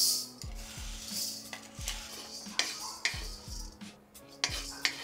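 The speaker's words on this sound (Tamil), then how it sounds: "இப்போ நம்ம கோதுமை வறுத்துக்கலாம்" Wheat grains dry-roasting in a pan, stirred with a utensil: repeated scraping and rattling strokes with metallic knocks against the pan, close and fairly quiet, no voices.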